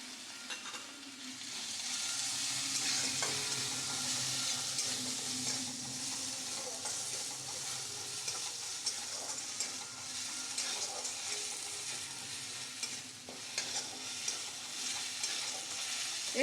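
Crushed green chilies and grated ginger frying in a pan, a soft continuous sizzle with faint stirring scrapes, fairly quiet and steady throughout with no talk.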